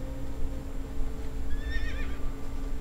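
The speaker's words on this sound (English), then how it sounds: "Let me ride my horse." A horse mount in World of Warcraft neighs once, a short wavering whinny in the middle over a low steady game background hum.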